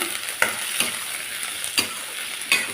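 A utensil stirs brinjal and potato frying in a pan, with a steady sizzle and several sharp scraping strokes at irregular intervals.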